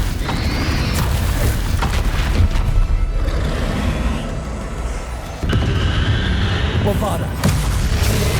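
A Confringo explosive spell goes off in a Hogwarts Legacy duel, with deep booming blasts and rumbling impacts mixed with a loud game soundtrack, and voices speak over it.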